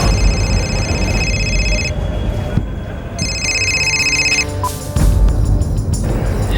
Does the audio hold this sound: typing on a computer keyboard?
no